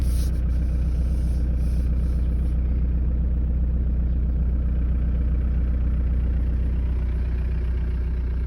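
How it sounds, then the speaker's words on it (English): A 1999 Volkswagen Beetle TDI diesel engine idles steadily after a cold start, a loud, continuous low rumble with a slightly rough, uneven clatter throughout, no voices present. "Idle is a bit rough right now, but it runs."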